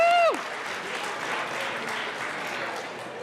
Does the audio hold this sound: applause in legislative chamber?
yes